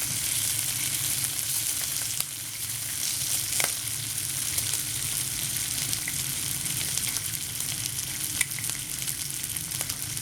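Bacon sizzles and crackles in a hot pan, a steady dense frying hiss with scattered sharp pops, close and continuous without talk.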